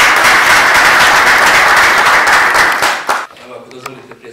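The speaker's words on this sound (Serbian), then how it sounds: "pa možemo li jedan veliki aplauz" A large university audience in Sarajevo applauds loudly and steadily for about three seconds, then the clapping cuts off into a quiet room with a few scattered claps.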